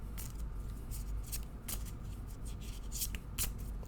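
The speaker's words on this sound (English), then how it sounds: "I shuffle until Spirit asks me to stop," Tarot cards being shuffled by hand, a soft, close riffling and rubbing rustle with repeated papery bursts, faint and alone without talk.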